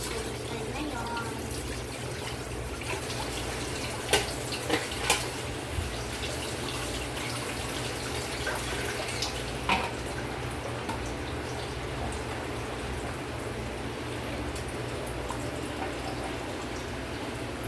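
A running tap during washing up, heard as a steady, continuous water rush with a few sharp clinks of dishes, faint voices in the background.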